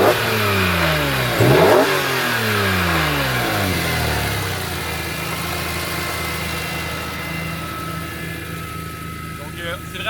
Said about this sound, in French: c'est vraiment le son typique 46 M3, le son raspy